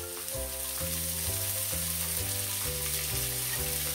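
Sliced onions sauté in a pan with a constant loud sizzle, while quiet music plays steadily in the background.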